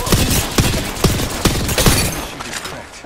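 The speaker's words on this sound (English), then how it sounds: "The enemies are shooting at you." Enemy gunfire in the video game Apex Legends: a rapid fusillade of loud, close shots at irregular intervals that thins out toward the end.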